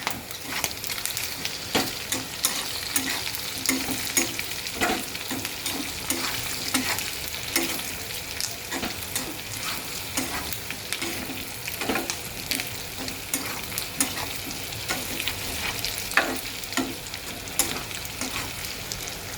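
Pork sizzling steadily in a pan with cumin and coriander powder while a utensil stirs it, giving continuous loud frying hiss with frequent scraping strokes, no voices.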